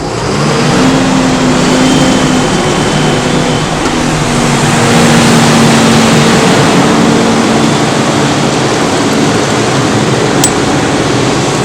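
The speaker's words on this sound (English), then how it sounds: "we might as well rev it up" A tractor engine revved to drive a Supreme 1200T mixer wagon, making a loud, continuous mechanical roar with a humming drone from the spinning machinery, steady and close throughout.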